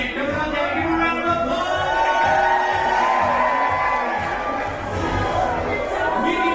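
A crowd in a cruise ship atrium cheers and whoops as Mickey, Minnie and the gang arrive, a sustained, fairly loud swell of voices with echo.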